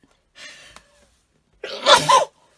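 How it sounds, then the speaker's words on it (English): After a soft, breathy intake, one loud, close sneeze bursts out sharply and stops. "I'm about to sneeze"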